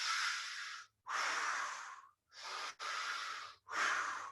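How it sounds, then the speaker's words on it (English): Deep, forceful breaths drawn in and pushed out during an advanced breathing practice, five long airy surges close to the microphone, separated by short silent gaps. "So I don't want to see a deep breath in."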